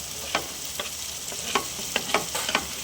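Tomato tossed into a pan with garlic and stirred, producing a soft steady sizzle broken by scattered scraping clicks of the spoon, fairly quiet and with no talking.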